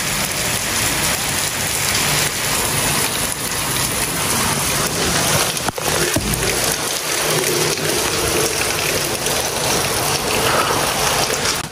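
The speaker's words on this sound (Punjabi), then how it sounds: "ਹੁਣ ਫਿਰ ਬਾਰਿਸ਼ ਸਟਾਰਟ ਹੋ ਗਈ ਕਾਫੀ ਤੇਜ਼" Heavy rain pours steadily on a farm, a dense, unbroken hiss that stays loud and close throughout with no voices.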